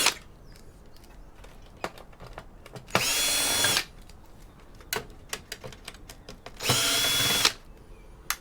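A power screwdriver whirs in two loud, sustained bursts about a second long each, backing Torx screws out of scrap electronics, with small clicks and handling knocks between them.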